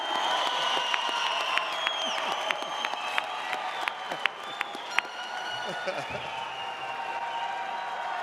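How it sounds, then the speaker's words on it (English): Graduation commencement crowd in a large hall cheering and applauding steadily, with scattered sharp claps and whoops rising over the sustained roar while a voice talks over it. "Everybody, cheer for them."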